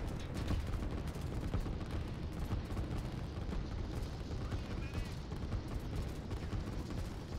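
Bombers strike a base in the strategy game Line War, producing a dense continuous barrage of rapid explosion and gunfire-like crackles at a steady, fairly quiet level.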